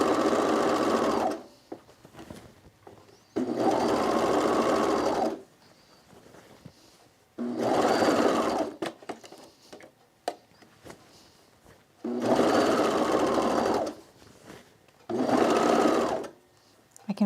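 Sewing a dress on a sewing machine or overlocker, heard as several loud bursts of rapid mechanical stitching separated by quieter gaps where a person talks.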